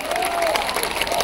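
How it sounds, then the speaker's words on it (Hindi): A crowd at an Indian political rally claps and cheers in a dense, continuous burst, loud and close, with a voice briefly audible over the noise. "और आप जरा जोर से ताली बजाना,"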